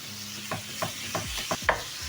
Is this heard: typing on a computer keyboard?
no